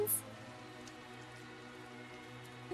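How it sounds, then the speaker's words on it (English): Steady, faint rain falls in the video game Tales of Zestiria, a soft continuous patter with a low hum of game audio beneath it and no talking. "Find shelter from the rain, if you please."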